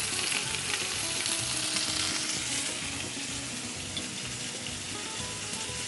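Garlic and ginger paste fries in hot oil in a pan, a steady, dense sizzle that holds at even loudness throughout.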